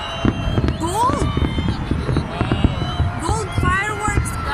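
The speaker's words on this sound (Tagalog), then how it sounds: "Gold fireworks, guys!" Gold New Year fireworks exploding over the Burj Al Arab in Dubai, a run of booming thuds and crackles at varying distance, with excited voices and whistling tones among the crowd.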